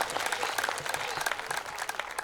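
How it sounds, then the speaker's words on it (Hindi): Loud, sustained applause from an audience at a Hindi comedy poetry gathering, dense clapping rolling steadily for a couple of seconds without a break. "एक बार तालियां बजाए जोरदार भाई साहब के लिए।"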